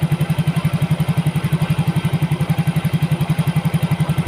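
A Yamaha Mio GT motorcycle engine idles after an injector replacement, giving a steady, rapid low thumping pulse that stays even and close-miked throughout, with no talking.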